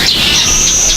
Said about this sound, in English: You can see there's the other birds there.